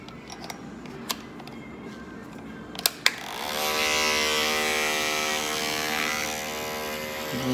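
An Andis Pulse ZR II dog grooming clipper, with a freshly changed blade drive assembly, clicks a few times and then switches on, settling into a steady close electric buzz that continues to the end.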